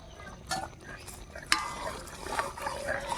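Fried spice mix is stirred into a cooking pan of dudh kochu (taro) curry, with soft scraping and clinks of a spoon against the pan over a quiet sizzle.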